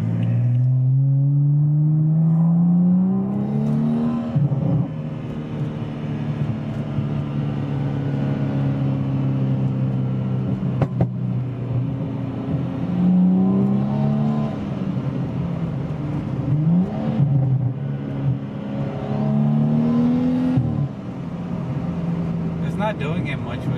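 A BMW 335i F30 engine with an MHD aggressive burble tune drones loudly and close, with several rising revs that fall back to a steady rumble.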